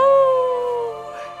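A dog howls over a radio link in the space film Gravity, a single sustained tonal wail with bright harmonics that slowly falls in pitch and fades, heard close and alone.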